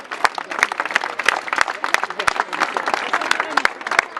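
Audience applause for the Dingy Toys amateur theatre troupe at a theatre festival, a lively crowd clapping with distinct sharp claps popping out over the steady wash throughout.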